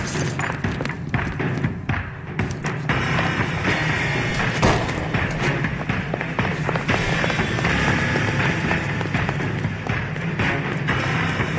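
Gunfire in a robbery shootout with police in the crime video game L.A. Noire: dense, rapid bursts of sharp shots and thuds that run continuously, loud and close, with scattered game sounds in between.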